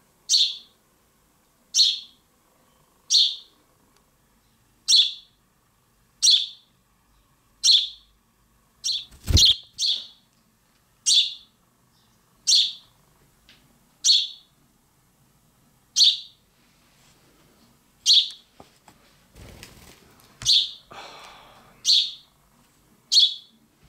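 A rescued house sparrow fledgling in Hackney, London gives regular, evenly spaced high chirps, close and clear, with a couple of brief handling noises in between.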